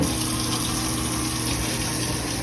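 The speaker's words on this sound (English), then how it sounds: "I'm going to run my bucket with water in it so that I have water for rinsing" Tap water pours hard and continuously into a bucket, a loud, steady gushing fill with no pauses and no talking.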